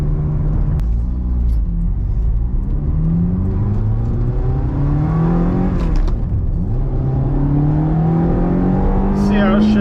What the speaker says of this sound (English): So far it's driving really nice, moving through the gears pretty good. We got that nice sound, gated shifter,